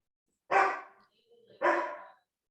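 A dog gives two distinct barks about a second apart, fairly close, with a soft sound between them.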